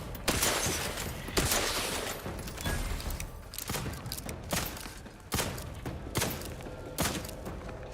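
Gunfire crackles through a firefight in the video game The Outer Worlds 2, with dense bursts of automatic shots and heavy thuds coming in uneven waves, loud and close, with sharp individual cracks punctuating the clatter.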